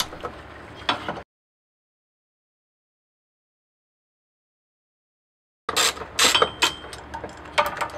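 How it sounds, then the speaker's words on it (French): Rear anti-roll bar supports on an Alfa Romeo 156 GTA being unscrewed, with ratcheting and metallic clicking in short bursts at the start and again after a long silent gap. "Ensuite, je dévisse les deux supports de barre stab"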